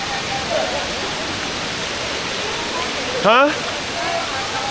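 Jungle waterfall rushing as a steady, loud broadband roar filling the whole clip, with a brief spoken exclamation over it near the end.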